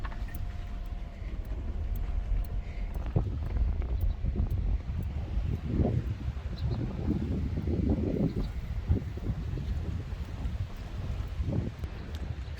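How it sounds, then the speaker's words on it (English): Wind blows across a beach campsite, a low rumbling gust noise buffeting the microphone with rustling swells rising and falling, moderately loud and continuous with no voices. "It still feels a bit windy here"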